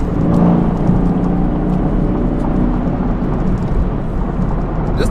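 A ZL1 Camaro with a 6-speed manual gearbox accelerates hard, a loud, deep, sustained engine roar heard from inside the car with heavy rumble and no talking.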